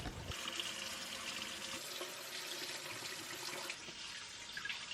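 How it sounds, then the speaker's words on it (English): Washing machine filling with water for a rinse cycle after dyeing clothes, a steady, continuous rushing hiss of inflowing water throughout, moderately loud and uninterrupted. "It'll just go through a rinse cycle."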